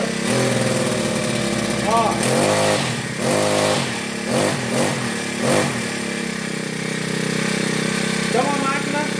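A Toyama TBC40 four-stroke brush cutter engine, running loud and close, is throttled up in several short revving bursts over a steady idle, while someone speaks briefly.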